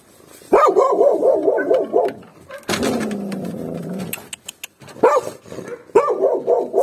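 Angry dogs at a homeless-dog shelter bark loudly in repeated bursts, a harsh chorus of several dogs with a noisy stretch in the middle and fresh barks near the end.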